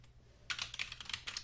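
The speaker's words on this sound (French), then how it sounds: "Ouais, je touche mon clavier." Rapid, light clicking of computer keyboard keys at a day trader's desk, a quick irregular burst of keystrokes close up after a quiet moment, with no talk.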